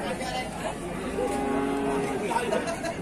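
Cattle at a cow market low and moo faintly in the background while people chatter nearby, with a brief bellow near the middle.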